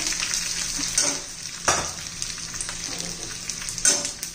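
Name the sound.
chopped onion sautéing in a pan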